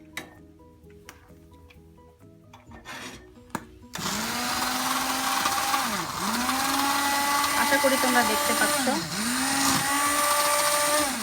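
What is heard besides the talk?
blender frothing hot coffee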